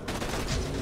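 Automated turret gunfire in Borderlands 2: a short, dense burst of rapid shots, loud and close, lasting under a second.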